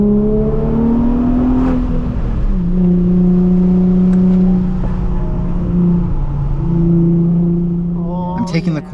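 A Nissan 350z engine heard from inside the car, loud and steady with its tone dropping at the downshift into second, then settling and climbing slightly, ending in a brief burst of noise.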